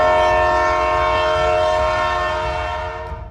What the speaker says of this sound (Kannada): ಆಗ ಅಲ್ಲಿ ಟ್ರೈನ್ ಬಂದ್ಬಿಡುತ್ತೆ.